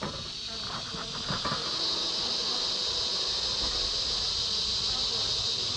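Honeybees buzz steadily around the hive entrance as foragers return carrying pollen, a dense, continuous insect drone close by with no voices over it.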